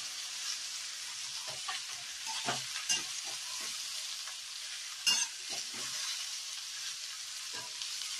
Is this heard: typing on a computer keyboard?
no